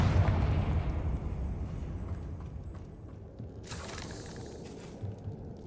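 A Confringo fire spell blasting in the Hogwarts Legacy video game, a steady low rumbling roar with a burst of crackle near the end.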